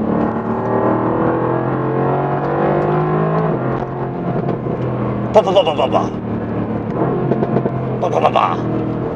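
A Mercedes-AMG GT R engine drones steadily from inside the car, then its exhaust cracks off in short, rapid bursts of pops, two clusters close and loud, with a voice talking over the engine.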